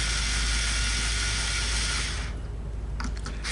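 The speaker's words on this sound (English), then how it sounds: "I'm just going to loosen the tension on them all" Tuning pegs on a 1960 Stratocaster electric guitar are turned to slacken the strings, making a close, continuous grinding, ratchet-like mechanical whir that drops off partway and ends in a few light clicks.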